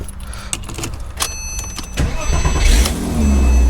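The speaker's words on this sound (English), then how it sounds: "Let's start the car and close the roof." A Porsche Boxster S 3.2L (987) is cranked and fired up after a starter replacement; a quiet electric whir comes first, then the engine catches around halfway and settles into a loud, close idle.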